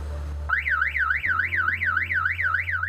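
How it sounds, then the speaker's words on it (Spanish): A car security alarm goes off after detecting a signal jammer near a parked car in Chile, a loud warbling electronic tone rising and falling in steady rapid cycles over a low hum. "Tenemos implementado un sistema de seguridad con una alarma instalada especialmente para la detección de estos dispositivos"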